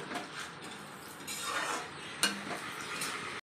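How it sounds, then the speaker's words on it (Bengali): Crushed ginger frying in a pan while being stirred, with a soft sizzle and repeated scraping of a utensil against metal, one sharper clink midway, fairly close and quiet. "এর মধ্যে একটু আদা ছেঁচা দিয়ে দিচ্ছি। এটা একটু ভেজে নেব।"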